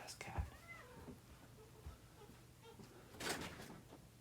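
A cat gives a faint, drawn-out meow indoors, mixed with a couple of low thumps and a short rustling burst near the end.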